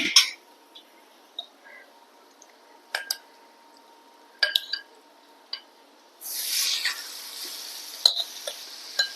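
Netholi anchovies fry in hot oil for biryani: scattered utensil clinks and stirring scrapes, then a loud, steady sizzle surges in for the last few seconds, with sharp clanks over it.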